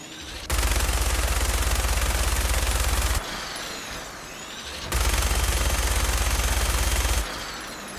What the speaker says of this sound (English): I'm going to quickly show you where to find this weapon, high speed shredding minigun